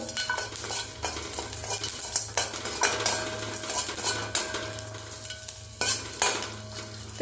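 Garlic sizzles in hot oil in a pan while a metal spoon stirs and scrapes steadily against it, close and busy, with a constant frying hiss beneath the clinks.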